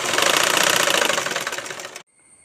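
A sewing machine running a zigzag stitch on garment fabric, a rapid steady mechanical chatter close by for about two seconds before stopping abruptly into near silence.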